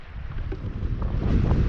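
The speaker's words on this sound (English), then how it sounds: "This wind's just getting nuts." Strong wind buffets the microphone on a small boat out on choppy water while squid fishing, a steady roaring rush that builds slightly and stays loud throughout.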